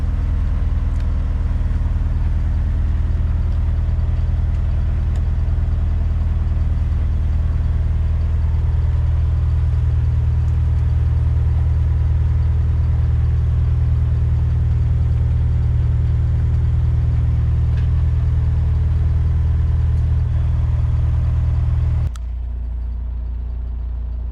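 A boat engine idles with a steady, deep, droning rumble for a long stretch, then drops abruptly to a quieter hum near the end.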